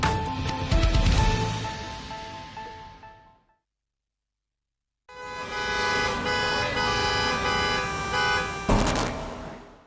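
Bangalore city traffic with car horns honking, loud and dense, breaking off into a few seconds of silence before the toots and engine noise resume, with a sharp blast near the end.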